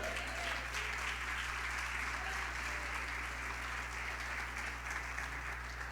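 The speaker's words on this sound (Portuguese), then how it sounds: "Quem pode aplaudir ao Senhor?" A church congregation applauds during a sermon, with steady, dense clapping from many hands sustained for six seconds over a constant low electrical hum.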